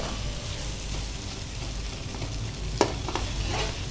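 Chicken pulao (Raju Gari kodi pulao) frying in a pan gives a constant close sizzle, broken by one sharp clatter of a stirring utensil and a few scrapes.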